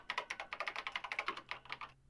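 Quick, light keyboard typing in the DanganRonpa video game, a fast run of about a dozen soft clicks at close range that stops near the end, with no voices.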